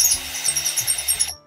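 A power drill bores a hole while a tractor canopy shell is installed, whining high with pulsing bursts over low motor chugging, close and loud, stopping abruptly.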